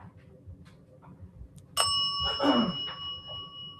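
A single bright bell ding rings out clearly and lingers with a sustained metallic ring, over a quiet background.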